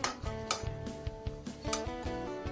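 Pieces of hilsa fish in mustard sauce are turned in a pan, giving a quick series of close metallic clinks and scrapes of a utensil against the pan in an irregular rhythm, with no talking.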